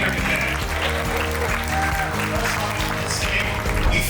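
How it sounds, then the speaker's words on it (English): An indoor audience at a New York City video game festival event breaks into sustained applause, dense clapping that carries on evenly throughout with no break. "Give yourselves a round of applause for being here today."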